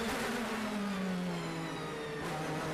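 Martin Tomczyk's DTM race car at Hockenheim in 2014 sounds a fairly distant engine note that holds high and then dips steadily as it heads into a corner, a single smooth wail with no voices.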